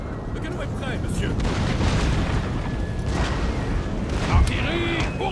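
Booming cannon blasts in a Total War Napoleonic battle game over a dense battle din, with shouting French voices and a sharp burst near the end.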